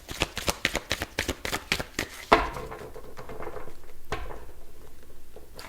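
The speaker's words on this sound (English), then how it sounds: "I feel guided to shuffle." Tarot cards being shuffled by hand: a quick run of about a dozen crisp, evenly spaced riffling taps, then a softer continuous sliding rustle of the deck, close and fairly loud with no talk.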